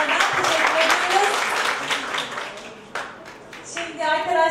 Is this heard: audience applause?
yes